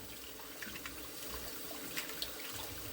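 Tap water running steadily into a kitchen sink while collard greens are washed, a faint continuous hiss and splash with small drips, fairly quiet and distant.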